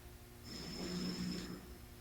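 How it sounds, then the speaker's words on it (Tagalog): A single drawn-out snore from someone sleeping, lasting about a second, close and fairly loud, rising and falling over a steady low background hum with no talk. "Humahagop ka lang pag humihilik."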